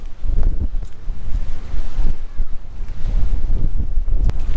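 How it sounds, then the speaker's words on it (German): Strong gusty wind buffets the microphone on a seaside pier, loud uneven rumbling blasts with surf and water noise underneath. "Unheimlich windig"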